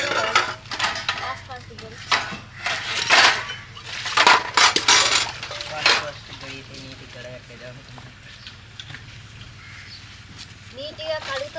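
Pots and dishes being scrubbed and washed by hand in a village, with clattering metal, scraping and splashing that come in bursts and then settle, under a person talking throughout.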